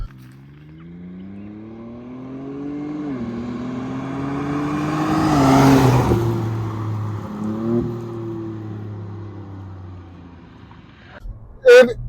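A 2024 Ford Ranger Raptor with its 3.0 V6 and exhaust in sport mode accelerates hard, engine note climbing through gears with a rising, swelling roar that peaks midway, then eases, with a brief loud burst near the end.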